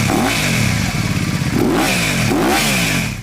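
A Napoleon 500 cruiser bobber motorcycle's V-twin engine revs loudly and close, with repeated rising blips of throttle over a rough, pulsing idle and no talking.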